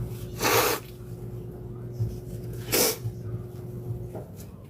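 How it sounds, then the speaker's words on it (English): Two loud, short nose blows into a tissue, a couple of seconds apart, close up, with quieter breathy sniffs between. "So now I need to blow my nose."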